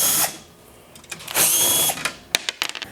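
Power drill backing screws out of the plastic shroud on a Keiser indoor cycle: a loud whirring burst, a pause, a second longer run, then a few short clicking taps as the screws come free.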